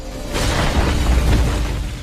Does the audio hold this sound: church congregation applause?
no